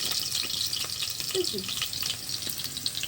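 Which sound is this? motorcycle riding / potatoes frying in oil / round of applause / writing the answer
potatoes frying in oil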